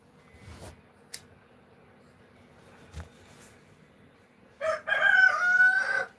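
A rooster crows loudly and close by near the end, after a few seconds of quiet with faint scattered knocks.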